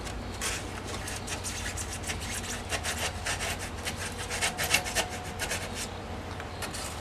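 A handsaw cuts closely spaced lines into a wooden surfboard box. Steady rasping strokes sound close and continuous throughout.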